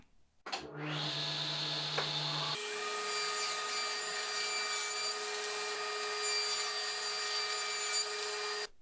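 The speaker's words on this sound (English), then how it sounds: "next I'll cut the sliding doors to complete this cabinet." A saw starts up and a blade bites into wood, cutting sliding cabinet doors to size, a steady loud high-pitched cutting whine that runs continuously, close by.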